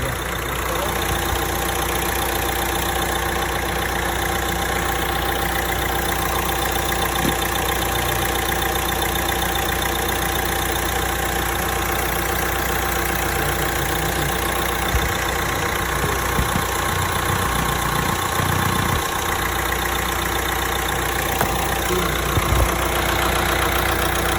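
A diesel engine idles steadily on a box truck with dual rear wheels and a hydraulic tail lift, a continuous low drone and hum running throughout with no talk over it.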